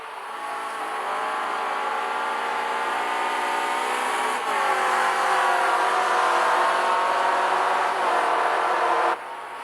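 Race cars on a circuit during a race, a steady loud engine roar as cars pass close with rising revs and a gear-change shift partway through, no talk.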